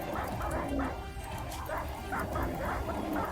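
Dogs from the video game RimWorld barking, yipping and whimpering over a dense, continuous mix of game noise, the calls coming steadily throughout.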